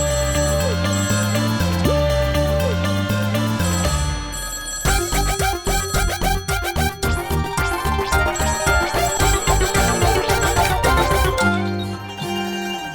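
A telephone rings on and on with no one picking up, its repeated bell bursts layered over background music in a household scene, with no talking.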